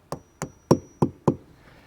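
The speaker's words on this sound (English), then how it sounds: "You're going to take your mason anchor and tap it into the hole that you pre-drilled." Five sharp taps land at an even, steady pace as a masonry anchor is driven into a pre-drilled hole for a retractable garden hose reel bracket, each strike close, crisp and alone.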